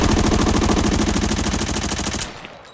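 An M4 rifle with a custom build fires in Arena Breakout, a fast, loud, continuous automatic burst of evenly spaced shots lasting about two seconds, then cutting off into a short fading echo.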